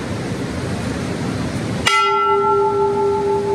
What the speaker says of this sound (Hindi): ये स्वर्ग के द्वार की घंटी है।